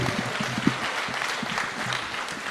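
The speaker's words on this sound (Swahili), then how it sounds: "Haya, tumpigie Mheshimiwa Nyoto makofi." A church congregation claps for an honourable guest, a broad wash of applause at moderate level with a low murmur of voices underneath and one sharper clap standing out early on.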